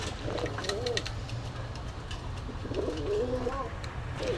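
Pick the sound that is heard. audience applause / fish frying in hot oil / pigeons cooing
pigeons cooing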